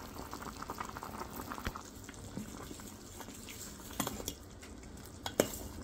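Raw banana curry simmers in a pot, a steady soft bubbling with a few sharper pops and small splutters near the end, close and fairly quiet with no talking.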